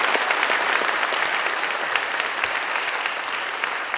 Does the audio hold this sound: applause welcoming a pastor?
yes